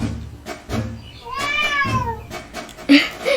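A cat gives one drawn-out meow that rises and falls midway through, while someone talks before and after it.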